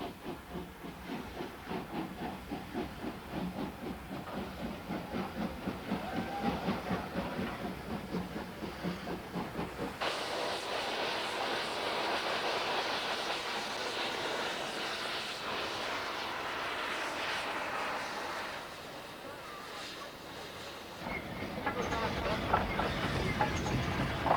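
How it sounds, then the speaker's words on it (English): Broad gauge WP and WG class steam locomotives hiss and chuff in an Indian railway junction yard, rhythmic exhaust beats giving way to long bursts of venting steam, moderately distant. "Broad gauge WP and WG class locomotives fill the sheds and once refueled set out to all parts"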